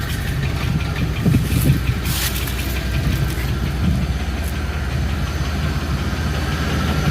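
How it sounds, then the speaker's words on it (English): An old van engine idles with a steady low rumble while a rocker arm rattles up top, a continuous close ticking clatter running throughout with no talk. "I hate that the rocker arm or whatever that is rattling up here"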